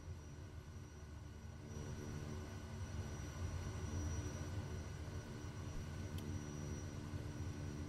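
A Kodiak 100 turboprop runs its engine for departure from runway 36 in Microsoft Flight Simulator 2024. The engine gives a dense, steady drone with a rising hum and a constant whine, and no speech is heard.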